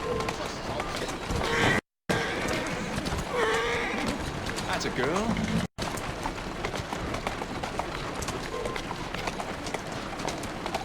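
Hooves clip-clop rapidly in a steady gallop in Assassin's Creed Syndicate, with a horse whinnying and a person talking over the busy game audio.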